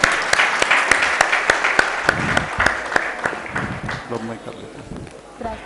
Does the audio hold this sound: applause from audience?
yes